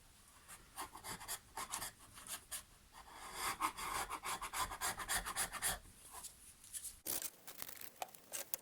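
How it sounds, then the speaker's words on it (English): A chisel scrapes sap and debris off hedge trimmer blades in a close series of rough, rasping strokes that come in uneven bursts, with a brief pause near the end before the scraping resumes. "I take a chisel as well and scrape off all the sap and rubbish."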